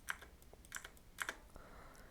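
Typing on a computer keyboard at a PC, a few sparse, light key clicks in small clusters, close and quiet with no voices.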